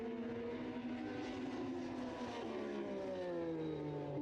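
British Superbike racing motorcycles, including a Yamaha, scream past at Brands Hatch in a close slipstream battle, high engine whine rising and falling steadily with a faint crowd wash underneath.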